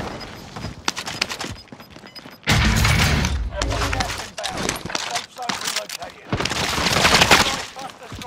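Gunfire in a Call of Duty: Modern Warfare battle royale match, with loud bursts of shots and impacts mixed among game effects while a voice talks over them.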